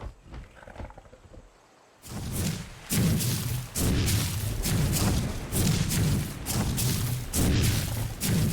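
Big guns fire in the video game Ark: after a quiet start, heavy booming blasts thunder out repeatedly, loud and close, with roaring rumbles between them.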